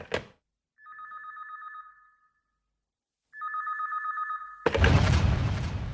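A telephone rings in two electronic trilling bursts separated by a short silence, loud and close, and the second ring runs into a rough noisy rumble.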